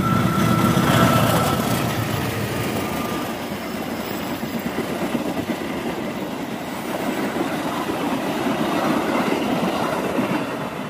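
Locomotive-hauled passenger train on the Jakarta Kota to Malang run, pulled by a CC206 locomotive, rumbling past at close range with steady wheel clatter and rail noise throughout, no voices.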